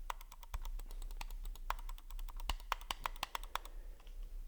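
Crisp micro switch clicks from the ROG Keris Wireless AimPoint gaming mouse's main buttons, a quick irregular series of sharp close taps, alone without talk.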